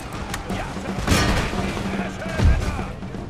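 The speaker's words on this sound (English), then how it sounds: "Quick, shoot them, grenadiers, shoot them." Grenadiers fire muskets in Empire: Total War, with scattered gunshot pops and dull booms of battle over a busy rumble while a voice talks throughout.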